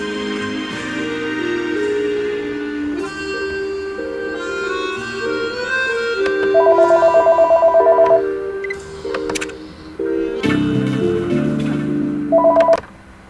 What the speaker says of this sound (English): I'm gonna have to call his son to come and pick him up.